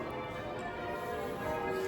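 Cathedral bells ringing in Chichester, a steady resonant wash of tolling with layered overtones that holds at a moderate level across the short stretch, with no talking.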